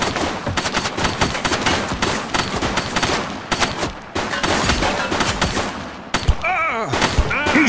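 Sustained automatic gunfire from a police shooter game set in a city precinct, with dense rapid bursts of shots filling the whole stretch, loud and close, broken briefly by a few sharper single cracks near the end.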